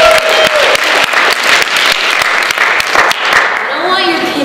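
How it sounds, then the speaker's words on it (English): Audience applause at a race and social change conference talk, loud crowd clapping with a few sharp distinct claps, a voice briefly heard over it at the start and end. "I don't want your pity applause."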